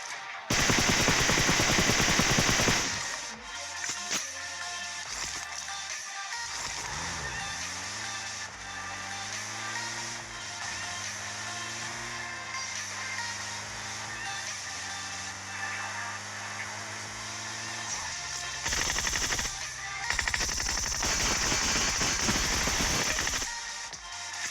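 Groza rifle bursts crackle in a battle royale shooter, a loud sustained volley at the start and more rapid fire near the end, with a vehicle engine droning steadily in between.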